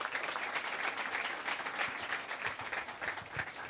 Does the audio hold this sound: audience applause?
yes